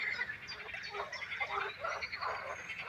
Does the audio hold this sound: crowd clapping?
no